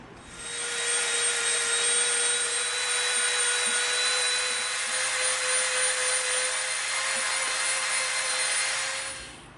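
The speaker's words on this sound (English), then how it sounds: "then we're going to Dremel it to be round" A Dremel rotary tool shaping a 12 millimeter EVA foam piece into a round: a steady high-pitched whine with a grinding hiss that starts, holds for several seconds and then winds down, close and alone.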